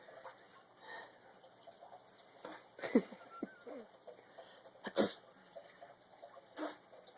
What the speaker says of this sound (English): You sneezing?